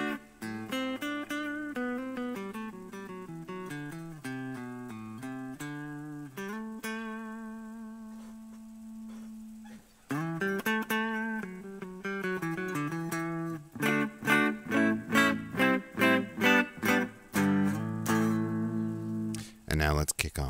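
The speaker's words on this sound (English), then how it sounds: "It's a Washburn Idle going into a Zoom pedal with a Fender Bassman model." A Washburn electric guitar with a clean tone runs through a Zoom pedal on its Fender Bassman model, playing clear single notes and sustained chords, then a brighter, more rhythmic strummed passage toward the end.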